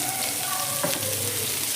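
Chopped pointed gourd fries in a pan with turmeric and salt, a steady close sizzle and hiss of oil with a faint clink midway, no voices.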